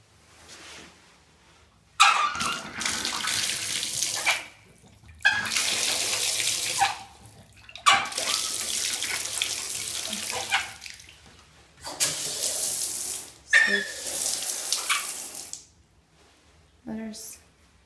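Water from an old bathroom faucet on very old plumbing runs in several strong bursts, a loud rushing splash that starts and stops repeatedly, with quiet pauses between, close by and alone without speech.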